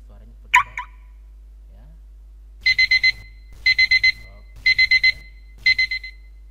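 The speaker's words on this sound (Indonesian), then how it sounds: "Sistem message centang, sound alert ya, kita pilih suaranya berbeda." A tracking software's sound alert plays four bursts of rapid, shrill electronic beeping, each a quick cluster of tones, clear and close after a short click.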